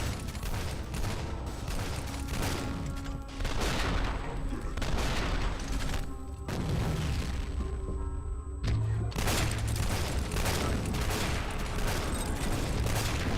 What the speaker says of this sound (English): Stop throwing the fucking grenades